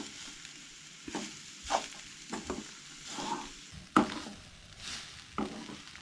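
Grated coconut roasts in a pan for a Goan white peas curry, stirred in irregular scraping strokes over a faint, low sizzle, with a few sharper clacks of the spoon against the pan.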